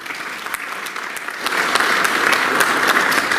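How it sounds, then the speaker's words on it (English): Audience applause at a 12th grade awards ceremony, a steady wash of clapping that swells louder about halfway through and carries on evenly to the end, with no voices over it. "So a big round of applause for yourselves"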